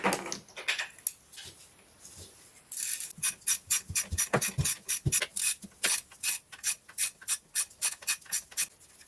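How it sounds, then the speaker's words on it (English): Ratchet wrench clicking rapidly and rhythmically while loosening 8mm bolts on a Peugeot Citroen Ford 1.6 HDi diesel engine, about twenty sharp close ticks in a steady run after a few seconds of quieter handling. "In the next step, we're going to remove these 8mm bolts"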